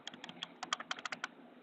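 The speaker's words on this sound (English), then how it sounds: "The clicking of the buttons feel very nice. Makes a nice tactile sound" Trackpad buttons on an HP ProBook 6450b laptop clicking, a dozen or so crisp, close tactile clicks in an uneven rhythm with no talking.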